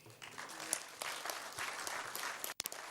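Brief burst of audience applause at a Nigerian oil and gas upstream cost optimization event, brisk clapping from a seated crowd that fades out near the end.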